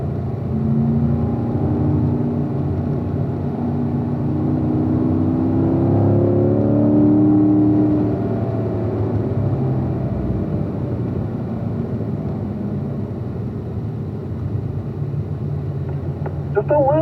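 A race car engine drones steadily on a track under light throttle, a continuous close rumble that swells briefly midway, with a voice talking over it throughout.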